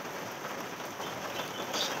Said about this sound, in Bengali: দেখো এখনও বৃষ্টি পড়ছে, বৃষ্টি এখনও কমেনি, সমানে বৃষ্টি হয়েই যাচ্ছে